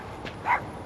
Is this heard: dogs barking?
yes